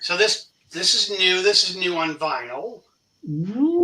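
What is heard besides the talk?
No everyday noise stands out behind the speech.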